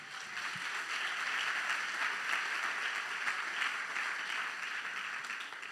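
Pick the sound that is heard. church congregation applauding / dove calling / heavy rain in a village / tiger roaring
church congregation applauding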